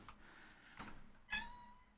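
A small cat meows faintly twice in a farm-building video game, short separate calls with a quiet gap between them.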